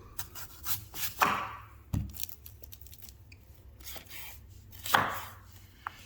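A knife chops vegetables for fajitas on a cutting board, a few sharp, close knocks and slicing strokes spaced irregularly, with quiet pauses between cuts.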